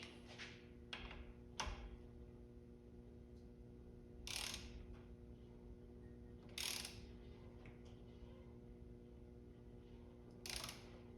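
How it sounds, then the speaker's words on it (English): A ratchet works a bolt on the Vanos unit of an E36 BMW S54 engine, giving several short, faint clicking bursts spaced several seconds apart over a low steady background hum. "this will get tightened down to 13 Newton meters"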